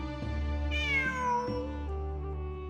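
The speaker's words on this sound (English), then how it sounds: "It really is a cat." A cat meows in the Genshin Impact video game, a clear, close drawn-out cry with a rising then falling pitch, set against a steady droning musical background.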